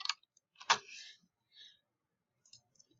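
A computer mouse gives a few sharp, close clicks with quiet gaps between them and a faint tap near the end, with no voice.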